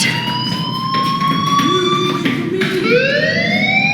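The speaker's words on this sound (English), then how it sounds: "Hey, do you hear that fire alarm?" A wailing electronic fire alarm tone in the video game Life Is Strange rises and falls continuously, loud and steady, with a low hum beneath and no voices.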